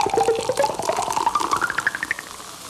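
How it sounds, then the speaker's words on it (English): A synthesized Coca-Cola can pop and pour: a quick opening burst, then a fizzy liquid pour whose pitch rises steadily as the drink fills, heard alone and close over about three seconds. "Coca-Cola pop and pour."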